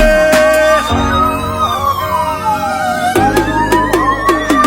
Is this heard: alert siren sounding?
yes